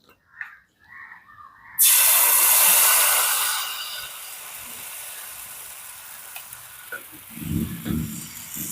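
White semolina batter for pantua pitha hitting an oiled pan, a sudden loud hissing sizzle that gradually settles into a softer, steady fry, followed by a few light scraping taps.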